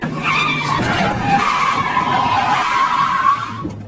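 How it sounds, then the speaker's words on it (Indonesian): A car speeds off with tires skidding and squealing in a dramatic chase scene, a loud sustained screech over engine noise that holds for several seconds before easing. "Chu Sung kabur dengan mobil"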